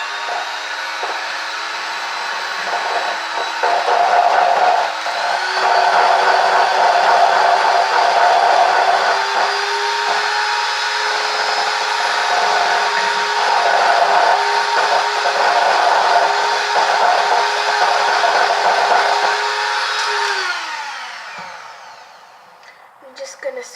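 An electric mixer beats butter, sugar and egg into cupcake batter, a steady loud whirring drone that holds for about twenty seconds and then winds down and stops.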